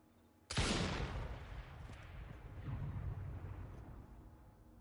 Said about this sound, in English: a bottle, when shot, has the sound effect of an explosion going off